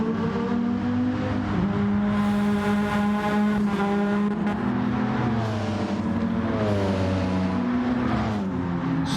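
Racing engines from a Gran Turismo 7 Group B race scream steadily at high revs, the pitch climbing and dropping through gear changes with overlapping cars close by throughout.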